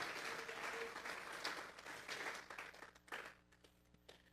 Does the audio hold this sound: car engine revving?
no